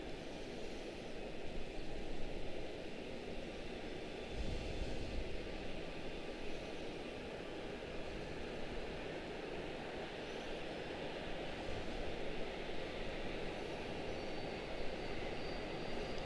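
Airliner jet engines spool up at Charlotte-Douglas International Airport, a distant, steady broadband roar holding for the whole stretch with only slight swells, no voices.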